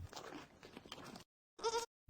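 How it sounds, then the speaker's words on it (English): A goat eating a snack from a little girl's hand gives a short bleat after a pause, following a stretch of soft rustling and chewing noise. "Eating goat."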